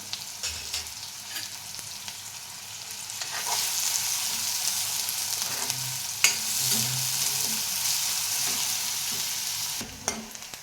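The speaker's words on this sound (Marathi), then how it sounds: "कांदा चांगला तळू द्यायचा आहे, लालसर होईपर्यंत" Chopped onions fry and sizzle steadily in a pan at home while cooking for an egg masala, with occasional stirring scrapes. The hiss is close and continuous, and no one talks.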